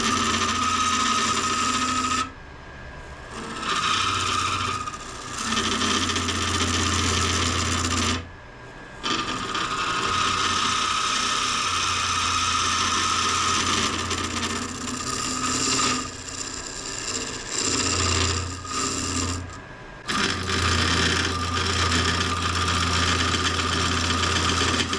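A wood lathe whirs steadily while a gouge hollows out spalted hackberry, giving a continuous scraping hum with a few short pauses between cuts.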